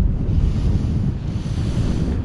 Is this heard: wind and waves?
yes